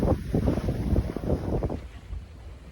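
Sailboat close reaching in an 8-knot breeze off Daytona Beach, with steady wind buffeting the microphone and water washing against the hull, fairly loud and continuous with no voices.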